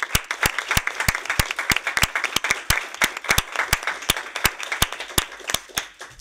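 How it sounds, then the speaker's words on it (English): Steady applause from a smallish audience, individual claps sharp and distinct in a quick, slightly uneven rhythm, with no talking over it. "Big round of applause."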